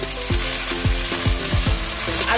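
Jute leaves tossed into a hot pan with frying sweet potatoes, a loud steady sizzle broken by several rhythmic stirring scrapes, close and with no talking.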